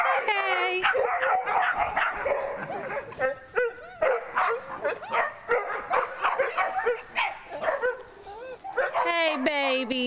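Several puppies inside a house, crowded at a window, bark, yip and whimper in a near-constant loud overlapping clamor, with some high whines toward the end.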